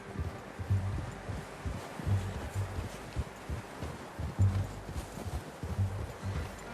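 Horse hooves clip-clop at a steady walking pace in the video game Red Dead Redemption 2, soft and low, with faint rustling in the background.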